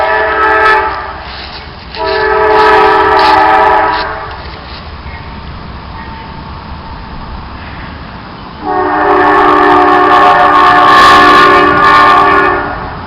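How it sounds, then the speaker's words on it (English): A train passes and sounds its horn twice in long, loud blasts, with a quieter rumbling stretch between them. Nobody speaks. "Sorry about the train."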